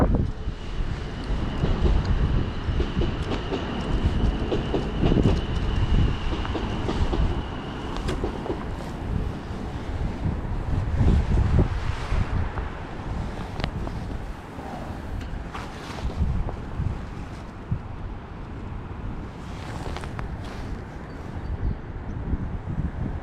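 Wind buffets the microphone at a lakeside fishing venue, a loud, continuous low rumble that swells and eases in gusts, with faint rustles and clicks of tackle beneath and no talking.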